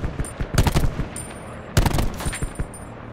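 Bursts of automatic gunfire in the video game Battlefield V, two dense clusters of rapid shots with scattered single cracks between, loud and close with no talk.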